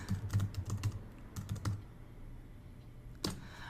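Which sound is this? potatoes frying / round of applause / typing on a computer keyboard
typing on a computer keyboard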